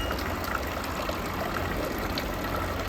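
Steady running water from a public drinking fountain in Trento, Italy, a continuous close gushing splash at constant loudness with no pauses and no voices.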